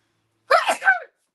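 One short, sharp sneeze close to the microphone, a quick two-part burst in an otherwise silent moment.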